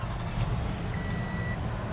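A 2016 Toyota Sienna SE's 3.5-liter V6 idles with a steady low rumble up close, with a faint electronic tone chiming briefly partway through.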